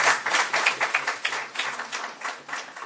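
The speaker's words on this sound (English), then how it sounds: "Please give her a big round of applause." An audience at a Washington policy conference opening gives a round of applause, a dense crowd of clapping hands that stays steady for a few seconds and tapers slightly toward the end.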